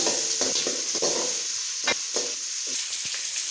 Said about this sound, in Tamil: வெங்காயம் வதங்கிட்டு இருக்கட்டும்